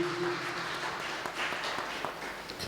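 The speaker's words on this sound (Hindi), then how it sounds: "जोरदार तालियां प्रभु की महान उपस्थिति के लिए।" Congregation at a worship service applauding loudly, a dense continuous wash of clapping with a faint sustained tone underneath early on, fairly close and filling the space.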